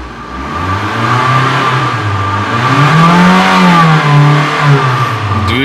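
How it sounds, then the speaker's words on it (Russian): A Mitsubishi Outlander Sport engine revs up, its pitch climbing and falling in a smooth rise, loud and close throughout with no talking. "Двигатель работает идеально"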